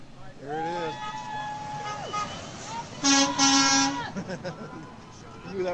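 Two truck horn blasts sound at a street rally in Portland as a Swift truck passes, the first a long tone of about a second and a half, the second louder and shorter, with voices around them.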